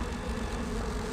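Bees buzz in a dense, steady drone inside the video game Resident Evil, a faint continuous swarm hum with no voices.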